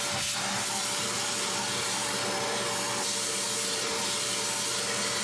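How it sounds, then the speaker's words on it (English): A vacuum runs at close range, cleaning lint out of a clothes dryer's discharge hose in a garage, with a loud, steady roaring whoosh and a constant whine throughout. "come over to the part where you unhooked the discharge hose from the wall, and we're going to vacuum it out"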